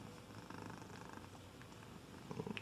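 A small female house cat purring softly and steadily up close, a low continuous rumbling hum with a few faint extra sounds near the end.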